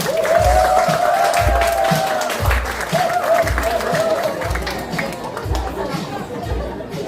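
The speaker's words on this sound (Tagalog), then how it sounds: "A round of applause to Mr. Carlo Benjamin Pajaro" An audience at the opening of Quantum Kidney Care Center in Koronadal City applauds a company executive, a lively wash of clapping and chatter with a steady pulsing beat and a tonal sound sliding overhead.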